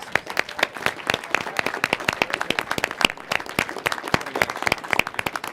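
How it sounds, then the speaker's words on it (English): A crowd at a winner announcement applauds steadily, dense clapping from many hands filling the room at a lively, even pace without any voices. "So big round of applause for Oxford Space."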